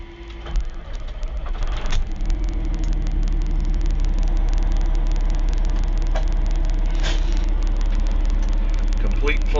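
A 2020 Peterbilt 389 truck engine cranks and fires after a couple of seconds, then settles into a steady, deep, close idle rumble that holds to the end.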